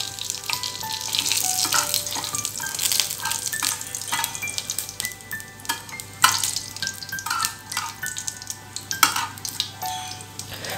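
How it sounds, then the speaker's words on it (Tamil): Mustard seeds and curry leaves sizzle and crackle in hot oil, with a steady frying hiss, scattered pops and stirring clinks running throughout, close and fairly loud, with no talking. "கடுகு வந்து நல்ல பொட்டி வர அளவுக்கு வந்து ஃப்ரை பண்ணணும்"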